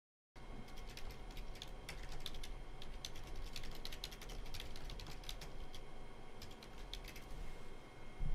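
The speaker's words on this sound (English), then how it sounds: "You hear me typing in response." Rapid clicking of fingers typing on a computer keyboard during a live stream, steady bursts of keystrokes close up with a constant background hum throughout.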